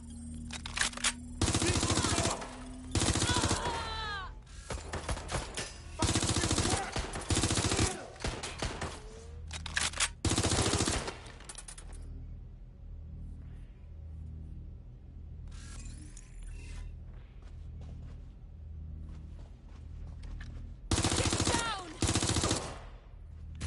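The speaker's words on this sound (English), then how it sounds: "Getting shot at here." Machine gun fire in Watch Dogs Legion, several loud sustained bursts separated by quieter stretches with low background rumble and faint game noises, the shooting returning near the end.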